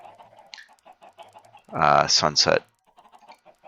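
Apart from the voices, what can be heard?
chickens clucking in the video game Minecraft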